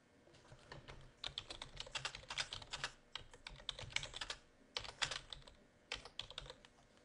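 Rapid typing on a computer keyboard during CRM software data entry, with bursts of close, crisp key clicks separated by short pauses and no talk.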